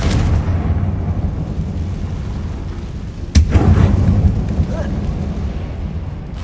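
A Confringo blasting spell exploding inside a closed mine in Hogwarts Legacy, one sudden loud burst midway above a heavy continuous low rumble, close and booming.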